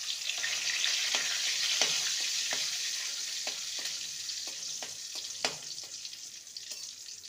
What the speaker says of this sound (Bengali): এবারে কারি পাতা ভেজে নেব।